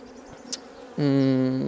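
After a quiet moment, a loud, close honey bee buzz starts abruptly and holds a steady droning pitch around a swarming hive.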